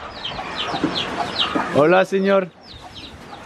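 Hens cluck repeatedly at close range in a yard at a rural shack in Colombia, with sharp short calls throughout and someone briefly speaking in the middle.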